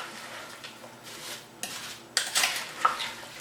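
Spiced apple chutney being stirred in a pot: scraping spoon strokes and light metallic clinks against the pot's side, soft and intermittent over a low background hum, with no voices.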